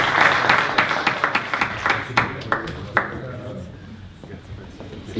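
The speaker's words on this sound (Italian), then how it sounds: "Stefano Fiore, un applauso." Scattered applause for former Serie A footballer Stefano Fiore in an indoor hall: a burst of dense clapping that thins to distinct individual claps and fades out within a few seconds.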